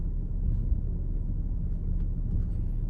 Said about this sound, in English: let's drive over the speed bump